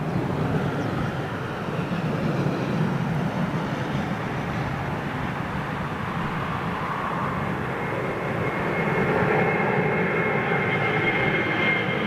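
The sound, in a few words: big jet airliner taking off in a low departure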